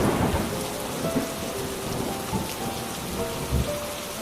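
Cartoon rainstorm pours steadily on a leaky hut as water drips inside, with dense hissing rain throughout and low rolling thunder rumbling underneath.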